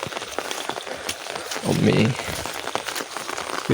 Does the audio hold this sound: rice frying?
no